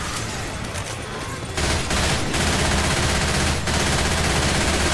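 Loud, sustained gunfire in Left 4 Dead 2, dense rapid shots from close by blending into a continuous roar with a few sharper bursts, no talk heard.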